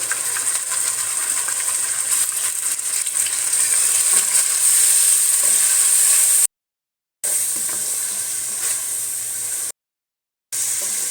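Ground masala paste frying in a pan for paneer kushka, a steady close hiss and sizzle that runs on with no talk, cut by two brief silent gaps.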